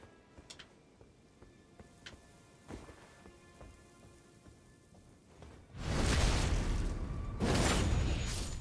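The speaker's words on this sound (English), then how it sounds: "Time for rain." Rain in Elden Ring Shadow of the Erdtree, a faint quiet stretch with scattered small sounds giving way to a sudden loud, steady hiss of heavy rainfall that swells again near the end.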